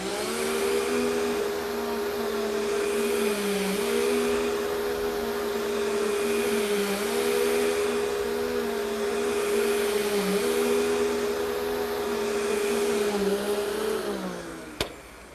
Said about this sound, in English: That's the simplest part of vacuuming, the most important part, but just remember, slow, deliberate passes